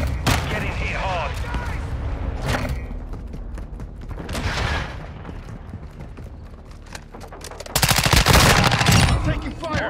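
Gunfire in Call of Duty: Modern Warfare II, with bursts of shots under game radio chatter and voices, ending in a loud, dense burst of rapid fire.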